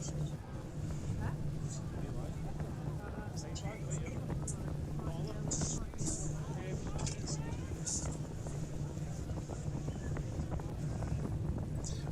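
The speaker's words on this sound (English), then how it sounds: "Windy night, as you can see" Wind on a stormy night during the Up Helly Aa torchlit procession in Shetland, a constant roar buffeting the microphone as low rumble throughout, with faint distant voices underneath.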